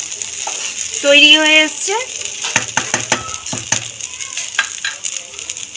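Broken wheat (dalia) and vegetables stirred in a pan, with close spoon scrapes and metallic clinks against the pan under a light sizzle, plus a short electronic tone and someone speaking briefly.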